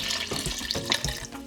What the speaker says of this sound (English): Add in 2 cups of water.